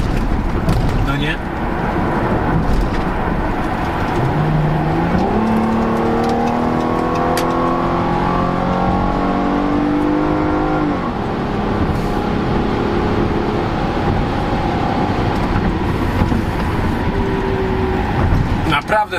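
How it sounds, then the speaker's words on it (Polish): A Chrysler Voyager minivan with a 3.6 V6 accelerates hard, its engine note climbing steadily through the gears while heard from inside the cabin, with someone talking over the droning motor. "Naprawdę ten samochodzik rozpędza się rewelacyjnie dobrze."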